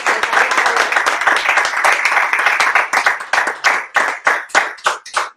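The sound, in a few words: congregation applauding in church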